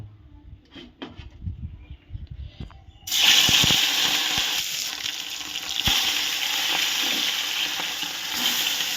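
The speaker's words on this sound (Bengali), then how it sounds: "এবার আমি মাছগুলোকে ভেজে নেব।" Katla fish sliding into hot mustard oil and frying, a loud steady sizzle that starts abruptly after quieter clinks and stays strong and crackling to the end.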